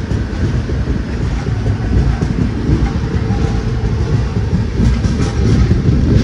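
A passenger train departs Shahabad railway station, a loud continuous rumble of wheels and carriages with a steady rolling roar throughout.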